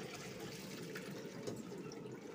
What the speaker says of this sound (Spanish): le vamos a echar agüita fría para que quite el almidoncito que trae la pasta